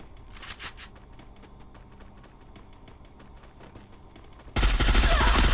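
Rapid bursts of video game gunfire crackle steadily at close range for several seconds, then a much louder, dense blast of noise takes over at the end.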